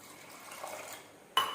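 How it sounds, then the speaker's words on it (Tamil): Water is poured from a tumbler into blended mango paste in a mixer jar for aam panna, a soft liquid trickle followed by a sudden louder splash near the end. "1 டம்ளர் நம்ம அதில் தண்ணி சேர்த்துக்கலாம்."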